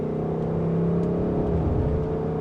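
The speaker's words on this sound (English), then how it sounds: "that exhaust sounds so good" A 2024 Ford Mustang GT drives on a rough road, its V8 exhaust giving a steady, close, low droning hum with rich layered harmonics that shifts slightly in pitch partway through.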